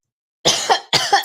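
Two sharp, close coughs from one person follow a brief silence and come in quick succession, each with a rough, throaty burst, heard on their own without talk.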